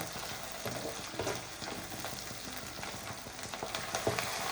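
Chopped tomato and curry leaves sizzle and crackle in a pan for an egg chutney, a soft, continuous frying hiss with small pops and the occasional stir.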